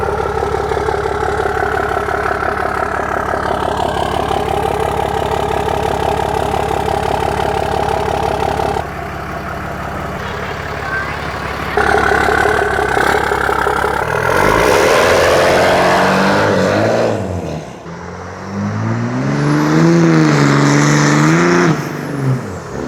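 Pickup truck engine, close and loud, idling with a steady low rumble, then revving up and settling back several times, with the pitch rising and falling.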